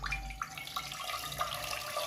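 Water, about one to one and a half litres, poured into a pot on a lit stove while making carrot halwa. It makes a steady, soft splashing stream with small gurgles, fairly quiet and continuous.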